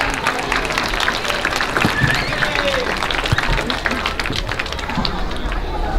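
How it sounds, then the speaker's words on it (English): Crowd applauding young exhibitors at a junior livestock show, a sustained patter of clapping in a large room with background chatter and murmuring throughout. "Let's give these kids a nice round of applause."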